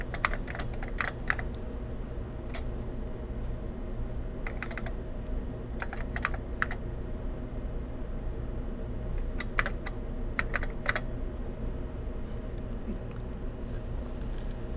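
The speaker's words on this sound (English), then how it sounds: "Okay, so I just typed a command" Someone types on a Xerox Alto computer keyboard in short bursts of clicky keystrokes separated by pauses, heard close over a constant low machine hum.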